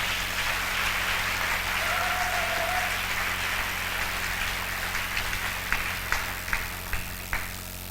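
A church congregation at a Sunday service applauds in a steady, dense wash of clapping that swells and then thins toward the end, with a few louder individual claps standing out near the close.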